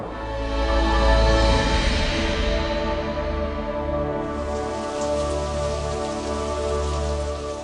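Heavy rain from artificially seeded clouds pours steadily onto surfaces in a royal rainmaking operation, a dense, continuous wash of drops with no talk, loudest early and easing slightly midway.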